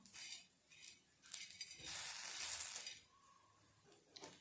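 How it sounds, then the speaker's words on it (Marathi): Chana dal roasting in a pan for a masala brinjal curry, giving soft sizzling and dry rustling as the lentils are stirred, with a louder burst of sizzle in the middle, faint and close. "हरभरा डाळ टाकून घेणार आहोत छानपैकी ते भाजून घ्यायची आहे आपल्याला तिचा कलर बदलेपर्यंत"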